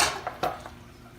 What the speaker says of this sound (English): Stir that around real good.